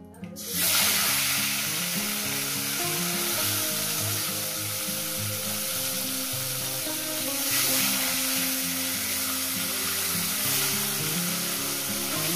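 Two tilapia fish crackle and sizzle in hot oil, starting with a sharp hiss as they go in and then settling into a loud, steady frying fizz with no one speaking.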